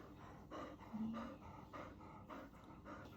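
Dogs pant faintly in the background with a steady, rhythmic breathing pattern, very quiet and distant, with no clear barks.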